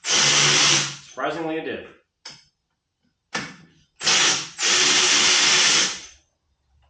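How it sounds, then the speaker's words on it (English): A new powered ratchet loosens the bottom bolts on the triple trees of a 1993 Harley-Davidson FatBoy. It gives several loud, close whirring bursts of uneven length with short pauses between them, and a voice speaks briefly. "We're going to try the new ratchet out and see if it'll loosen them without turning it."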